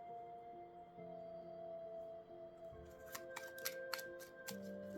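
A fresh deck of oracle cards is shuffled by hand, a quiet sequence of crisp, irregular riffling snaps and flutters in the second half over faint background music.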